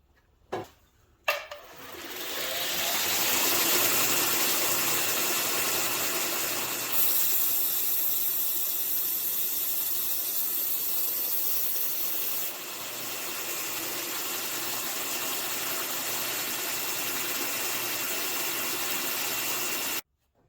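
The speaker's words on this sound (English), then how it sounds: "I'm going to slowly but at a consistent rate of speed pull across the grinder" Knife blade drawn slowly and steadily across a running belt grinder to put an obtuse edge on it, giving a loud, continuous abrasive grinding whir after a couple of clicks at the start.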